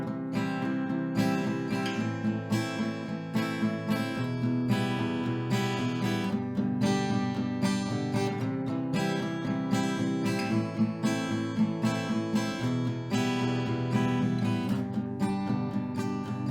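Acoustic guitar strummed in a steady, repeating rhythmic pattern for the chords of a song, played at normal tempo, close and full, with no voice over it.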